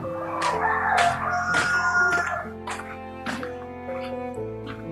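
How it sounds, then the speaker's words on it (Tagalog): Chickens cluck and call close by, with a rooster-like cry and overlapping bird voices over a low background hum. "Ito yung mga manok natin, tol."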